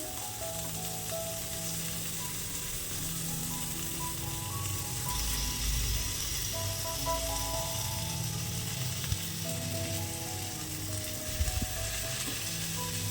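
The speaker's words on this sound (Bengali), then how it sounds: "তো একটা পিঠ বেশ ভালো করে আমার ভাজা হয়ে গেছে, আর এই পিঠটা ভাজবো।" Chicken legs frying in a grill pan give a steady, dense sizzle and crackle that stays close and even throughout, with a few faint clicks and no voices.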